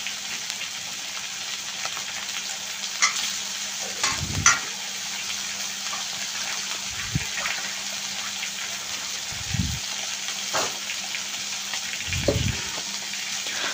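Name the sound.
fish frying in hot oil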